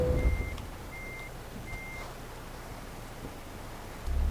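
A truck in Euro Truck Simulator 2 backs under a trailer, three evenly spaced reversing beeps sounding over a low diesel engine rumble that swells again at the end.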